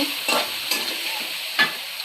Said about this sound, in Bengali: একে একে সব মশলা দিয়ে দিলাম, দিয়ে সুন্দর করে কষিয়ে নেব।